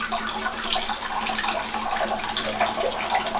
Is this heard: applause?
no